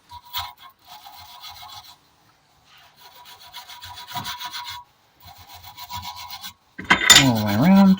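Metal scrubbing on a rusty Pump Track P-Series bicycle hub comes in several rasping strokes of a second or two each with pauses between, close and moderately loud, then ends in a short sharp squeal.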